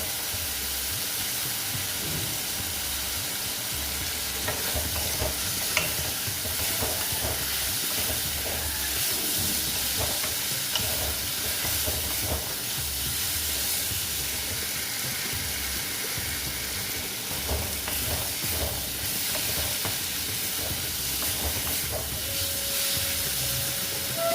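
Spices and Kashmiri red chilli powder are sautéed in oil for a rui fish curry, giving a steady, close hissing sizzle with light scattered crackles that continues evenly throughout, with no voices.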